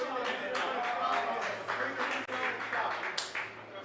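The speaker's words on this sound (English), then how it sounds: "I'm hearing clapping in the background" Clapping from a group of people drifts in from the background of a live poker tournament room, a steady patter of claps that is fairly soft and distant, mixed with murmured talk.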